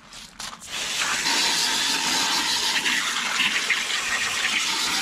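An RV toilet flushes with a steady, hissing rush of water that starts with a brief gurgle and keeps gushing strongly to the end.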